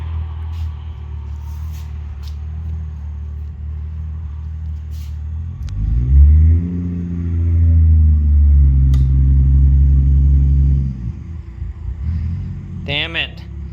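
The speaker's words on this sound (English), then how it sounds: "Watch my Supra drive away" A Toyota Supra engine rumbles up, revs, and holds a steady drone for several seconds as the car drives away and fades, with background sounds around it.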